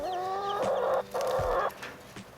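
A mother hen clucks with rhythmic, harmonic calls in two close bursts, joined by her chicks' faint high peeping, then trailing into quieter farmyard sounds.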